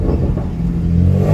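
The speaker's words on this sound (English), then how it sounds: "Quick rev for you guys." A car engine revs quickly near a tunnel, a loud, close, continuous deep rumble rising and holding for about a second and a half.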